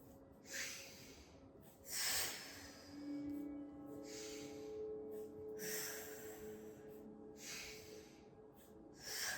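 Deep breaths during a Pilates exercise come as a repeating cycle of airy inhales and exhales, close and clear, with a few soft pauses between breaths.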